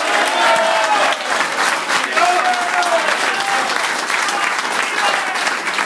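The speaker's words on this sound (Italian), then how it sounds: "Facciamo un applauso al capocannoniere." An audience bursts into loud, sustained applause for Serie A top goalscorer Immobile at a Torino fan club gathering, the clapping dense and continuous with a crowd murmuring beneath it.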